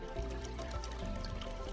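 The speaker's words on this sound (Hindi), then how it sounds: "अब मैं इस हिस्से को भी जोड़ देता हूँ और तुम एक बार फिर से पानी भरो।" Water pouring steadily into a drum during a plant-growth demonstration, a continuous close splashing gush that fills the whole stretch without pause.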